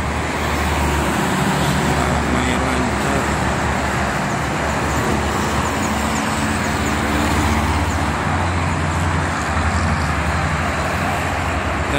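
Busy morning traffic on the Jakarta–Cikampek toll road rolls past in a dense, continuous roar of cars, buses and trucks, steady and loud throughout.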